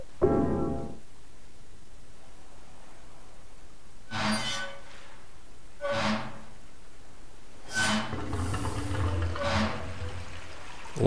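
After a sluice gate valve is opened in Silent Hill 4: The Room, water splashes in several separate bursts, about four sloshing surges spaced a couple of seconds apart over a quiet, hissy background.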